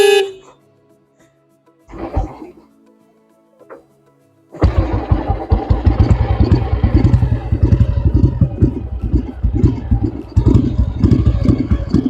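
An old, rebuilt Royal Enfield Bullet is kicked over with a couple of thuds, then fires up and settles into a loud, steady thumping idle with a close, rhythmic single-cylinder beat.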